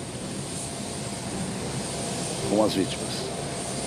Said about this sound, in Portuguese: Aí está o segundo avião Hércules pousando.